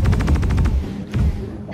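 A rapid burst of automatic gunfire in Star Citizen, about eight close, loud shots in quick rhythm, then a short pause and a couple more scattered shots.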